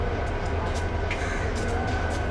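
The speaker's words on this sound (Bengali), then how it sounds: "এই যে ট্রেন গড়া শুরু করছে" A train begins pulling out of a railway station with a low steady rumble and broadband rolling noise, moderately loud and continuous, with faint clicks and hiss mixed in.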